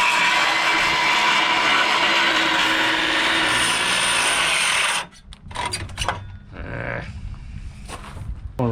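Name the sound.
cordless drill working on boat planking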